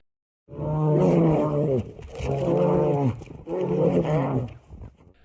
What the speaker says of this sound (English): these two big brown bears were filmed fighting in the middle of the woods. Starting with horrific warning growls